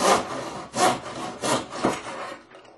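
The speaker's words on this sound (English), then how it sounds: "I'm using a miter box. It doesn't take much, just a couple passes underneath the blade" A float stem is hand sawn in a miter box, four or five quick rasping strokes back and forth, close and fairly loud with no one talking.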